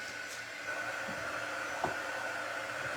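A hair dryer blows steadily on wet paint coating a wooden farmhouse-style shelf, a constant whirring hum at moderate loudness with a faint knock near the end.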